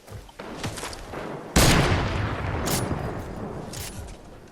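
Gunfire in the Fortnite video game, scattered shots building into a sustained loud burst of rapid fire with sharp individual cracks standing out.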